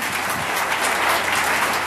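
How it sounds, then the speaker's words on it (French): A church congregation applauds loudly and steadily in dense, continuous clapping that holds an even level throughout, with no voices rising above it. "applaudissons très fort pour le Seigneur Jésus-Christ"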